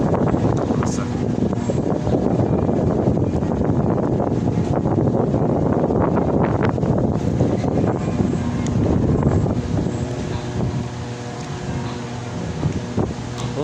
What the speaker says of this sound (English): The wind is coming back here.